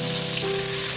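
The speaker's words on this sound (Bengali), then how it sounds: "পেঁয়াজগুলো ভাজা হোক।" Onions sizzle in a hot pan of oil with cumin, a steady close crackling hiss without pause, with no voices.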